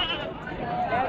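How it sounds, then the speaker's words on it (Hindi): Bleating from a large breeder goat at a Pakistani madrasa livestock market, a continuous wavering cry lasting about a second, close and loud, with crowd babble in the background. "लो जी ए वड्डा ब्रीडर बकरा तुम चेक करा दी"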